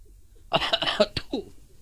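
A voice mimics a nobleman's cough in a comic religious storytelling talk, giving a short cluster of loud, close, raspy coughing bursts that trail off.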